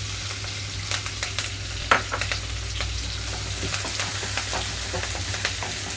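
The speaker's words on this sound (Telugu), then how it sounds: "ఇక్కడ ఉల్లిపాయలు సాఫ్ట్ కలర్కి వచ్చే వరకు వేయించుకుంటున్నాను." Chopped onions and green chillies fry in hot oil with tempering seeds for a tomato drumstick curry, giving a steady close sizzle with crackling pops and occasional stirring clicks throughout.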